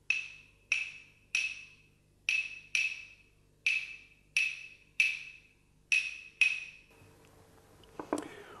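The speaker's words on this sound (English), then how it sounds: "Whereas the Cuban claves are just more straight pieces of wood and gives a more piercing sound." Cuban claves, two straight wooden sticks, are clicked together about ten times in a steady rhythm. Each strike is bright, high and piercing, close up with a brief ring, and a faint rustle follows at the end.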